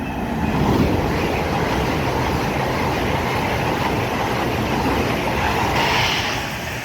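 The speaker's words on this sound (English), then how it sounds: "730-225 and 208 going from London Euston to Crewe." A pair of Class 730 electric units rush through Wolverton station on the West Coast Main Line, a loud continuous rumble of wheels on track with rhythmic clatter, close by and steady from start to finish.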